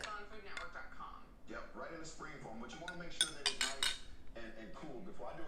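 Buttermilk being mixed into cheese biscuit dough in a bowl, heard as soft, irregular scraping and clinking of a utensil against the bowl at close range, with a few sharper clinks in the middle.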